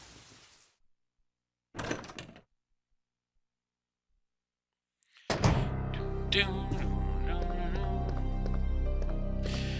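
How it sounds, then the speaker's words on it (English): Door being unlocked with a lockpick in the video game Resident Evil 3, a brief mechanical clunk and rattle after silence, followed by a swell of droning, layered ambient game music. "unlock this door with the lockpick"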